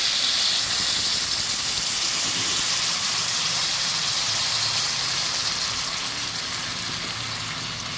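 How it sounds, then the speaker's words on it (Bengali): Water poured into a hot karahi while cooking a green-banana and katla fish curry, giving a steady loud steaming hiss and sizzle that fades slightly toward the end, with no voices. "জল দিয়ে দিচ্ছি।"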